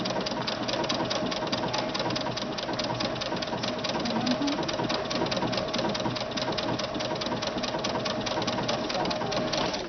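A sewing machine with a fringe looping foot stitches loops down, running as a continuous rapid mechanical whir and patter, close and steady throughout.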